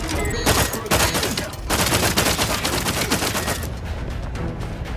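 Rapid gunfire from a weapon in The Outer Worlds 2, loud, dense bursts of shots fired in quick succession, nearly continuous with a brief pause, close and dominant throughout.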